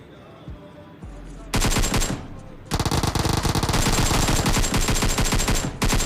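Automatic gunfire in the mobile battle-royale game PUBG Mobile, a short burst followed by long, rapid, loud sustained firing that fills the rest of the clip.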